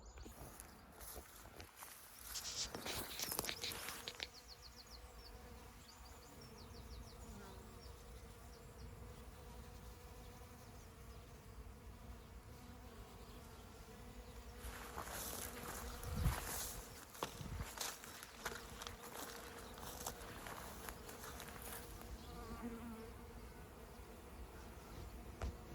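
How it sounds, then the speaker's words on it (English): Many bees buzz steadily through a flowering Phacelia cover crop on a farm, a dense continuous hum with a few brief louder passes close by and no talking. "this particular one, which is mainly Phacelia, there will be other things in it, but it's alive with bees"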